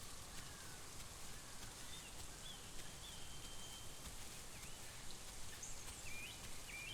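Steady rain falls in a video game, a constant even hiss with faint bird-like chirps scattered over it and no voices.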